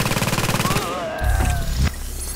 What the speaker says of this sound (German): Ich stell mal ein Geschütz hier hin, mal gucken. Wie knallt sie raus?